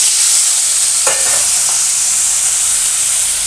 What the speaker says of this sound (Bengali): তেল গরম হয়ে গেছে, এবার ইলিশ মাছের মাথাগুলো দিয়ে দেবো